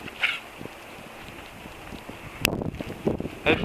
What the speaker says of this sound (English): Getting kind of windy.